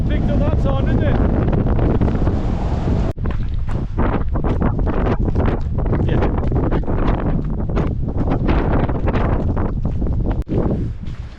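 Strong gusting wind on a mountain near Snowdon, heavy roaring buffeting against the microphone that stays loud and constant, with rumbling low turbulence and brief crackles.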